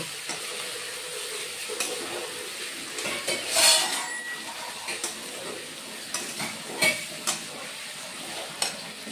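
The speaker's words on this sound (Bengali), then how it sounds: "আলুটাও দিয়ে দিলাম। দিয়ে এবার কষিয়ে নিব।" Jackfruit and potato sautéing in a pan for a vegetarian jackfruit dish, with a soft steady sizzle and repeated scraping clinks of a utensil stirring against the pan, fairly quiet and close, with no talking.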